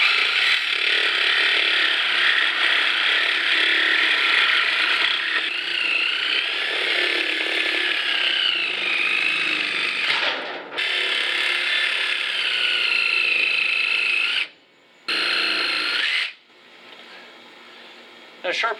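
A power tool with a dull blade cutting the rubber of a tire off its wheel rim, a loud, steady high-pitched whine that runs continuously, dips briefly twice near the end, then cuts out.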